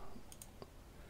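Computer mouse clicks while plotting a route on a map for a Suunto Traverse watch: a few short, crisp clicks close to the microphone, separated by brief gaps, over quiet room noise.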